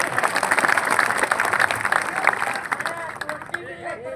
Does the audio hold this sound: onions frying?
no